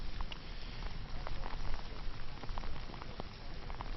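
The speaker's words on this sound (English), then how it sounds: "As you can see, it has not stopped raining yet as they head to the starting the gate." Steady rain falls at a horse racetrack before a race, a soft, continuous hiss and patter heard faintly and evenly throughout with no voices.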